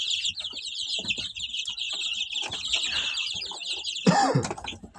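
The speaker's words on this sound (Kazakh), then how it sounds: "Осы балапандар мен тауықтарым тағы бір демалыс." Young chicks about fifteen days old peep in a constant high chorus, joined by scattered clucks from hens and a brief louder squawk near the end, all close by.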